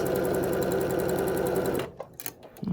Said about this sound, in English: Just sew 3 or 4 stitches, hold in reverse, and sew again.